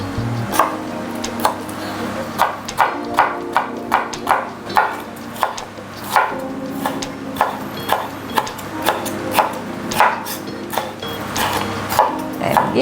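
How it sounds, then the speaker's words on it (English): A knife slices through a deseeded vegetable on a cutting board, giving a steady series of sharp, close chopping knocks at an even rhythm, loud and alone with no talking. "And give it some nice slices."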